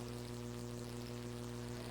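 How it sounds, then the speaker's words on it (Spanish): Electric fans run in a room where a sermon is being held, giving a steady, unbroken mechanical hum with a low buzzing drone that stays level throughout, with no voices. "¿Podríamos apagar estos ventiladores para que no se escuche un poquito el ruido?"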